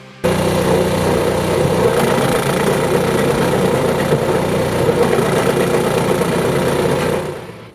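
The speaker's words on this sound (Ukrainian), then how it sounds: "Дизельний двигун 14 кінських сил, акумулятор 50 амперів, запуск електростартер" A 2V100B branch chipper with a 14 hp diesel engine runs at a steady idle, a loud, continuous engine drone with no one speaking.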